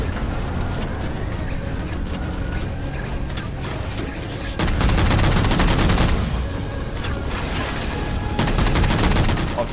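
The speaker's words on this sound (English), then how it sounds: "Some motherfucker over there with a concussion rifle" Weapon fire in the video game Halo 4, including a concussion rifle, comes in dense rapid bursts and sharp cracks over a rumbling battle bed, growing louder midway and again near the end.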